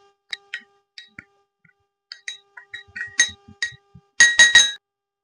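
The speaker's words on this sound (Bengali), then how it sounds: "এরপর চিনি আর কফিটা সুন্দর করে মিশিয়ে নেব" A spoon clinks sharply against a bowl while sugar and coffee powder are stirred together: scattered bright taps at first, then a quick burst of three louder rings near the end.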